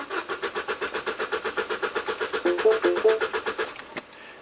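A Mini's engine cranks over without catching, a loud, steady rhythmic starter churn of about two dozen even beats that stops abruptly with a clunk, followed by quiet.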